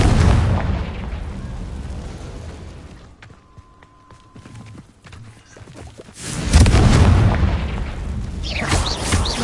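Confringo blasting-spell explosions in Hogwarts Legacy, a loud booming blast that fades into a quieter lull before a second heavy detonation rumbles out near the end.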